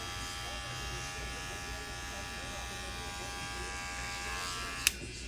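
A barber's electric hair clipper buzzes steadily as it cuts a hairline guide, a close, continuous hum that runs through the whole clip with a single small click near the end.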